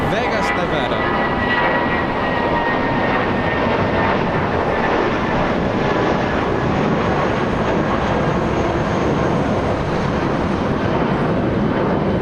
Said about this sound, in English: JetBlue leaving on runway 25 right. Flight to Vegas, Las Vegas, Nevada.